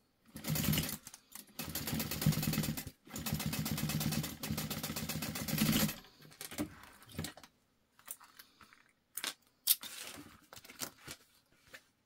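A sewing machine top-stitches folded-down zipper tape on a pouch in three steady bursts of rapid stitching, then stops, followed by scattered clicks and light handling noises.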